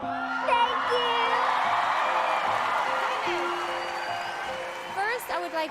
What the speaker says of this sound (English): the crowd is going crazy for you